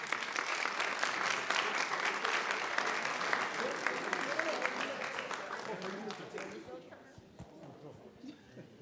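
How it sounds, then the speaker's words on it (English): A crowd applauds steadily, then the clapping thins out and fades to a few scattered claps, with some murmuring voices beneath. "Please welcome and give a round of applause for Mr. Evariste."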